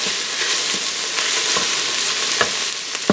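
Tomato paste sizzles steadily as it cooks down in an Instant Pot for chili, a continuous bright frying hiss with a few soft stirring clicks and scrapes, close and fairly loud with no talking.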